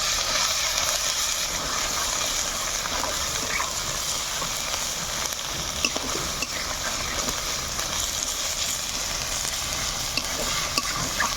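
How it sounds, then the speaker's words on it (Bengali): Ground mustard greens paste frying in a pan over low heat while being stirred, a steady loud sizzle with scraping stir strokes running continuously throughout, no voices. "শাকটাকে হালকা আঁচে 2 থেকে 3 মিনিট ভেজে নেব।"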